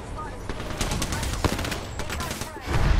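Video game gunfire crackles in rapid repeated shots and short automatic bursts, fairly close, with a heavier burst near the end and faint voices underneath.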